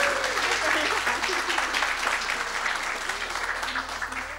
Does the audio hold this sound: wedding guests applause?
yes